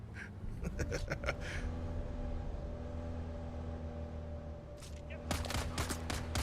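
Video game gunfire comes as short bursts of shots early and again near the end, set over a steady mechanical engine hum. Other game sounds mix in with the shots.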